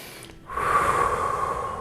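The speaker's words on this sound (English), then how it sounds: "So big breath in." A deep breath drawn in during a core workout, starting after a short quiet gap as a sustained, close, breathy inhale that holds steady to the end.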